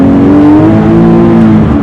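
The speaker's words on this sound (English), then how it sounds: "The engine noise is unreal." A Porsche 997 GT3 4.0 engine revs loudly and up close, a strong steady roar with a rising and falling whine held throughout.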